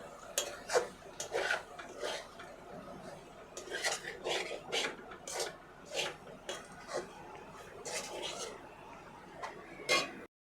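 A spoon scrapes and clinks against a pan while cardamom paste is stirred into chicken fried rice, producing repeated close metallic knocks and rasping scrapes in an irregular rhythm.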